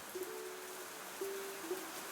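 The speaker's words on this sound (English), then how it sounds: "The real problem Sashka. is this rain" A steady, soft hiss of rain falls throughout a video game scene, with a low hum running under it and no talk.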